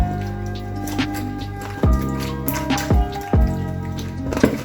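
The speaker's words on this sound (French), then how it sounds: "Je rince au citron." Catfish is rinsed with lemon and water, giving wet drips and squelchy splashes. A few sharper knocks land under the close, fairly quiet washing sounds, and no voice is heard.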